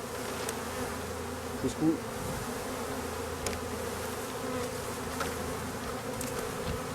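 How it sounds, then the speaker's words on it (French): A swarm of honeybees being poured into a hive buzzes in a steady, close drone. A brief spoken word cuts in over the buzzing. "on peut voir les abeilles sont dedans. Elles ne sont pas énervées, rien."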